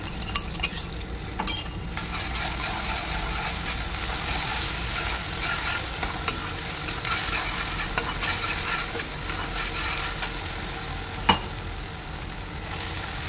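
Onions fry in a pan with crushed ginger, garlic and chili paste, giving a steady, dense sizzle throughout with occasional light clinks of a utensil. No voices are heard.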